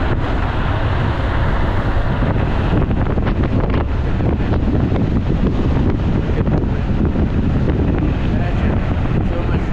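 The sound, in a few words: strong wind during electric scooter ride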